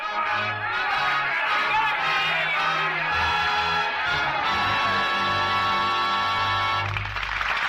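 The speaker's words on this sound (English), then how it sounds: "the crowd was coming, chanting its hate, screaming for blood" Revolutionary French mob from a radio drama of A Tale of Two Cities, a dense loud crowd roaring, chanting and screaming continuously over a low swelling music bed throughout.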